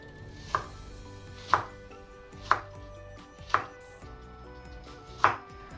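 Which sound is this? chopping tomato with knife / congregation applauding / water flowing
chopping tomato with knife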